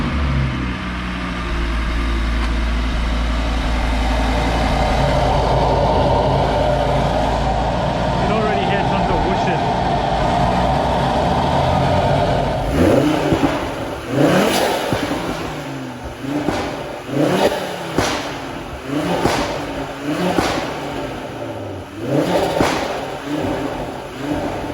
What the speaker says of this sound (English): Makes quite a racket. Very noisy car.